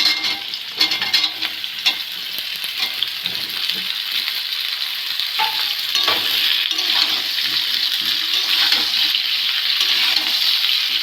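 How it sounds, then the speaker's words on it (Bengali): Sliced ridge gourd frying with potatoes in a pan, a busy sizzle broken by repeated spatula scrapes and clinks as the vegetables are stirred, close and steady, no talking. "আলুগুলো একটু ভেজে নিয়েছি, ঝিঙেগুলো দিয়ে দেবো"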